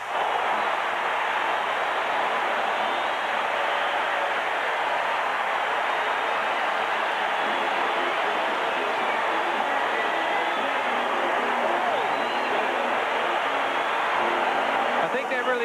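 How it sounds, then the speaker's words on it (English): Stadium crowd roars steadily at an NFL AFC Wild Card playoff game, Houston Oilers at Oakland Raiders in 1980, a dense, loud wash of cheering that holds for the whole stretch without letting up. "Listen to the crowd."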